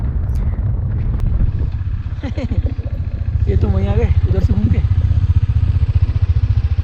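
Motorcycles ridden at night near a river in Kashmir, their mid-pitched engines chugging steadily and close up, growing louder partway through while riders talk over the noise.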